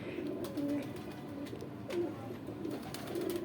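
Rampuri pigeon cooing, several soft low coos repeating at intervals, close and clear over faint background noise.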